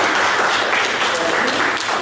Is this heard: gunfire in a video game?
no